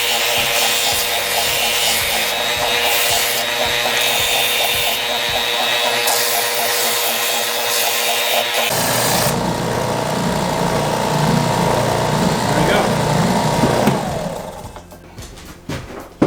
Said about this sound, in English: right now the carriage bolt is just keeping everything lined up while I round off the end on the belt sander